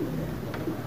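A pigeon coos once, a soft low call close by under light background noise.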